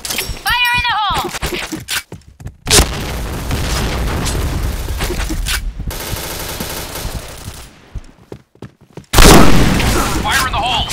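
Grenade and gunfire bursts in a competitive Counter-Strike match: sharp booms and rapid machine-gun fire crackle loudly across the stretch, with a heavy blast near the end, while players shout over the action.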